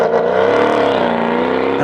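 A Mercedes C63 S W205 with a twin-turbo V8 engine revs hard and close, giving a loud, steady, rising throaty drone with no pause.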